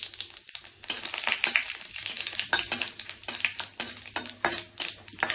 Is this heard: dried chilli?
yes